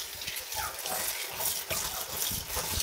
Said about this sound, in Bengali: সবগুলো আলু ভাজির জন্য কেটে ফেলেছি এখানে ধুয়ে নিব